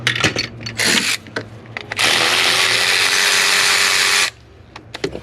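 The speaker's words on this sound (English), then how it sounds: "We got a little crazy with my ratchet." Rapid ratcheting from a hand ratchet wrench working spark plugs loose on a Ford 5.4 3-valve engine, a bright continuous clicking burst lasting about two seconds, with shorter ratchet clicks before and after.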